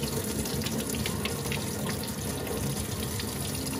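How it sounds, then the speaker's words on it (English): Cold water runs steadily from a sink tap in a continuous close splashing stream, with no talking. "is run under some really cold water"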